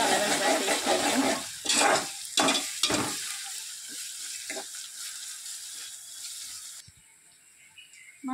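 Ginger garlic paste fries and sizzles in a pan for stuffed brinjal kurma, with loud scraping stirs early on, then a softer steady sizzle and a few faint taps near the end.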